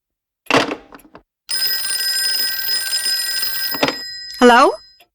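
A telephone bell rings in a sustained metallic trill lasting a few seconds, set between short bursts of a voice in a radio drama scene; she speaks before and after the ringing.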